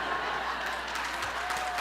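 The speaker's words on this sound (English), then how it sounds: "I appreciate you clapping for that" Applause from a seated audience at a diversity, equity and inclusion summit fireside chat, a steady dense patter of many hands clapping at moderate distance, filling the room evenly without a break.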